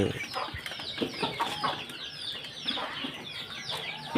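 Chicks in a coop keep up dense, continuous high peeping, with many overlapping calls close by in a busy, chattering chorus.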